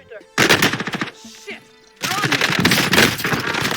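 Rapid automatic gunfire in the Warzone video game crackles in dense bursts, with a short lull before a sustained stretch of shots fills the rest of the moment, loud and close.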